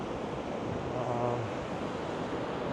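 Ocean waves wash onto the beach at Matinhos, Brazil, as a faint, steady broadband surf roar with a little wind and no clear individual wave breaks.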